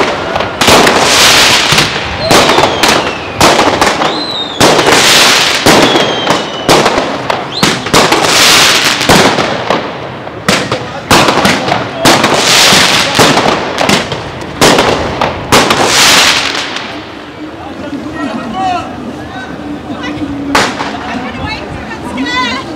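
Dense New Year's Eve fireworks in Amsterdam, with rapid loud bangs and crackling bursts fired close by, some whistling rockets, and a crowd talking and shouting throughout before the barrage thins toward the end.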